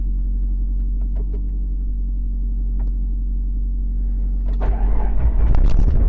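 A 1999 Jeep Wrangler Sahara with a 4-liter engine and five-speed turns over after months of sitting, a steady low rumble from near the engine swelling into a louder, rougher roar as it catches.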